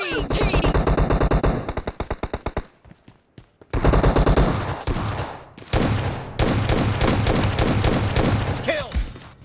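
Rapid automatic gunfire from PUBG Mobile on iPhone in a Warehouse team deathmatch, loud bursts of machine-gun fire with brief pauses, mixed with game announcer voice lines.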